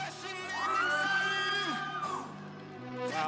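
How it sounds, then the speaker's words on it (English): A youth group audience whoops, yells and cheers loudly for the team they think won, one rising and falling collective shout with overlapping voices, fairly close and full. "what you got to do is cheer louder for the team that you thought won"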